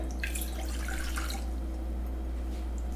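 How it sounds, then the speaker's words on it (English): Water poured from a cup, about three-quarters full, into a cooking pan on a touch-button stove, heard as a brief splashy trickle over steady low hum, then fading into quiet background. "And I got about 3/4 of a cup of water. I'm gonna go ahead and pour this in here."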